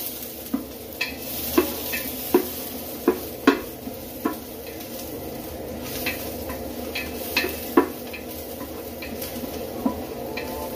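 Onion sautés in a pan for Batangas lomi, cooked in Doha, Qatar, under a soft steady sizzle with regular sharp clinks and scrapes of a utensil against the pan.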